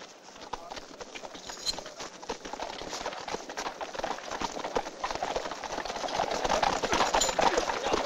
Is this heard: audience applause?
no